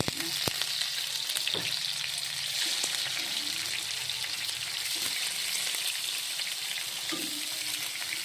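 Slices of Spam fry in a little oil, giving a steady close sizzle with occasional soft clicks and stirring scrapes of a utensil in the pan.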